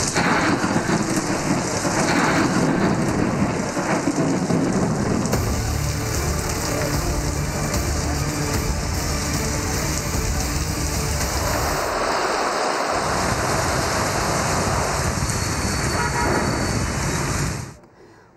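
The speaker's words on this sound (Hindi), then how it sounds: "काली घटाओं और गरज चमक के साथ होने वाली तूफानी बारिश ने गर्मी की छुट्टी कर दी" Heavy monsoon rain pours steadily in Karachi during a thunderstorm, a dense continuous hiss with low rumbles of thunder rolling beneath it, loud and unbroken for most of the stretch before stopping abruptly at the end.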